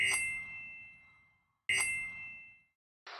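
Two bright, ringing bell dings sound about a second and a half apart, each decaying slowly, followed by a brief burst of noise.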